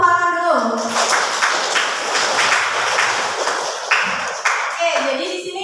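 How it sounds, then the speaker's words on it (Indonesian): A group of participants clapping hands together at an instructor's prompt during a classroom or workshop activity, a dense steady patter of claps lasting several seconds after a short spoken cue. "Coba tepuk tangan dulu."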